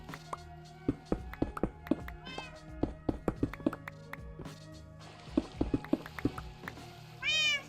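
A cat in the block-building game Minecraft Infdev+ meows near the end after a run of sharp taps and clicks, with a person talking underneath.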